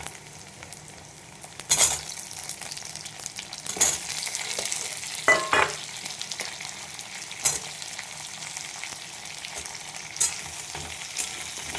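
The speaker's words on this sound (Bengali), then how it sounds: "পেঁয়াজগুলো ভাজা হয়ে গেছে, এই আলুগুলো আমি এবার এর মধ্যে দিয়ে দেবো।" Potatoes added to fried onions in a pan, a soft steady sizzle broken by several bursts of stirring and spatula scraping, fairly quiet with no voices.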